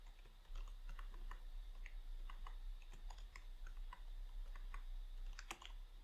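Close fingers type on a computer keyboard in quick, uneven bursts of light clicky keystrokes over a steady low hum, with no talking.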